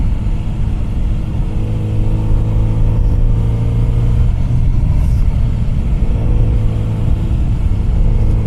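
Kawasaki motorcycle engine drones steadily while riding on a road through Saguaro National Park, Arizona, a constant loud rumble with wind and no speech.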